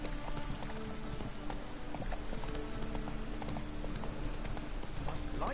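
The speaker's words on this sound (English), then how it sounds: "Horse! Come to me, horse." Horse hooves clip-clop steadily in The Witcher 3, a continuous rhythmic clatter over a dense, noisy town backdrop.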